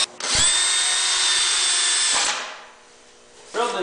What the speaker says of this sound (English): We're going to put screws in.